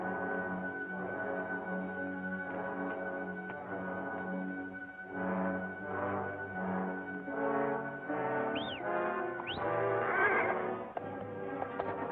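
A horse whinnies in a 1946 western film scene, with shrill neighs rising near the end over a bed of steady hoof clip-clop and background music, moderately loud and close.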